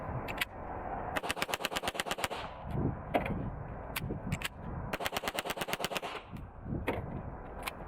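A Hi-Point JCP .40 pistol fires at an outdoor range: two long, fast strings of sharp shots separated by a pause, with a few isolated single shots around them, moderately loud.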